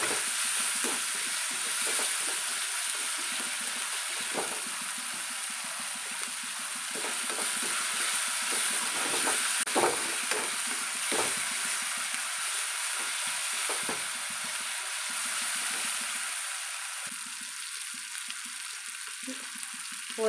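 Ginger garlic paste sizzles in a pan while a spoon stirs it for a Tamil ivy gourd (kovakkai) gravy, a steady close frying hiss broken by repeated scraping strokes of the spoon.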